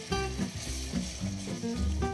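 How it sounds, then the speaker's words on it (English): Marsala wine sizzling and reducing in a hot pan for a roasted turkey breast dish, a steady close crackling fry with soft stirring movements, no voices. "as the Marsala cooks down, and I'm gonna stir this gently all the way around"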